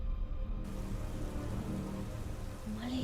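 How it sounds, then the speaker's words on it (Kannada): Heavy rain pours steadily and loudly throughout, a dense, unbroken hiss of downpour for a Kannada suspense thriller story, with a faint tonal sound rising near the end. "ಮಳೆಯ ಅಬ್ಬರದ ನಡುವೆ"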